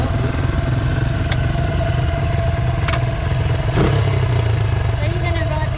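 A motorbike engine hums steadily at mid pitch, close by and constant, with a few sharp clattering knocks breaking through the drone.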